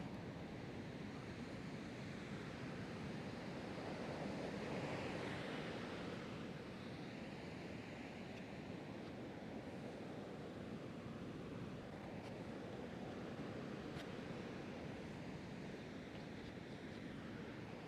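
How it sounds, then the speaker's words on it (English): Ocean waves crash and wash onto a beach in a continuous rumbling surf, with wind buffeting the microphone throughout and no voices over it. "Looking to see how the waves are crashing."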